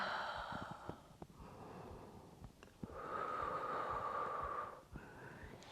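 Breathing during yoga practice, soft close inhales and exhales with snort-like nasal bursts and a long sustained breath in the middle, quiet and alone.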